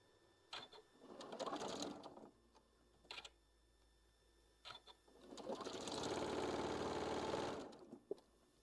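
A sewing machine stitches a quilted table runner in two runs, one short and one longer and steady, with whirring motor drone and fast rhythmic needle ticks between quieter handling clicks.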